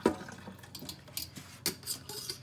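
Tap water runs into a sink to rinse cyanotype prints on fragile paper. There is soft splashing and trickling with a few small knocks and drips, close and fairly quiet.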